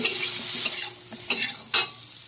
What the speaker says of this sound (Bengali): হলুদটা দিয়ে বেগুনগুলোকে আমি ভালো করে ভালো ভেজে নেব